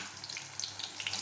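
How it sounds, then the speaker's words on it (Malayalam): Mustard seeds and dried red chillies splutter in hot oil for a Kerala mulaga pachadi, giving faint, quick crackling pops over a soft continuous sizzle. "കുറച്ച് 1 സ്പൂൺ കടുകും 2 ചുവന്ന മുളകും കുറച്ച് കടുകും കൂടി പൊട്ടിക്കുക"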